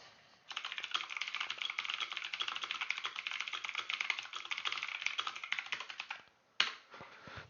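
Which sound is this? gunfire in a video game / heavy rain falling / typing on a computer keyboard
typing on a computer keyboard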